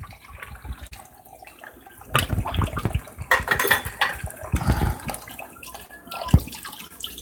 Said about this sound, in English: I think I'm actually going to add some hot water into this.